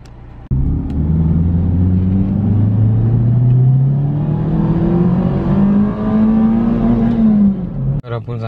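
A red Proton Perdana Turbo pulls up nearby, its engine revving in one long rising note that peaks and then eases as the car arrives, loud and close. A brief sharp noise follows at the end.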